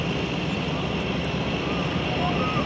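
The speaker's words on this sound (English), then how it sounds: "let's go over here and see one that's about to take off, it looks like" An airplane taxis before takeoff at Vancouver harbour, its steady engine drone continuous and fairly loud throughout, with a faint voice partly under it.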